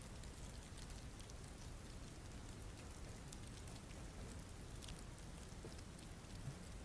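A rain ambience recording plays back, soft steady rain pattering continuously, a faint even hiss with scattered drops and no voices.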